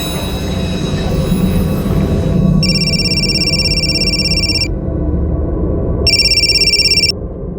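Ringback tone of an outgoing phone call, two electronic ringing bursts each about two seconds long with a gap between, loud and close over a low background hum.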